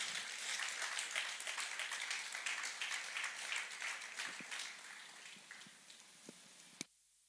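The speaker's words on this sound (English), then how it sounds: "Round of applause, please." An audience claps dense and loud to welcome a speaker at a real estate summit, the applause thinning and fading over several seconds into a few scattered claps.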